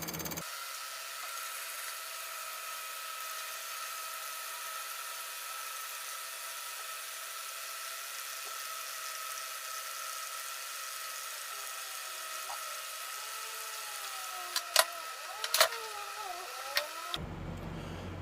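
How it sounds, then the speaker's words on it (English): A small electric fuel pump, clamped straight to a battery on a combine, gives a steady, even whine for about seventeen seconds, with a few sharp clicks and knocks near the end. "That's going to be a perfect little fuel pump for this."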